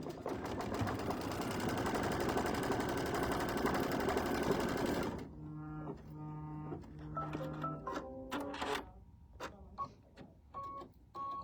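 A sewing machine runs a steady, fast stitching whir for about five seconds, then stops. Tonal beeps and a few short mechanical clicks and stitch bursts follow as it lays a placement stitch for a mug rug border piece.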